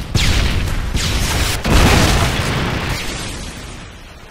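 A Predator missile explosion in Call of Duty Modern Warfare 2 erupts as a loud close boom, with a second blast rolling in at once and a rumbling tail that slowly fades to quiet.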